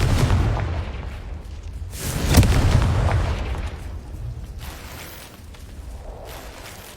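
Booming blast from the Confringo fire spell in Hogwarts Legacy, a broad low burst swelling near the middle of the clip over a rumbling backdrop, with smaller thuds fading afterward; no talking.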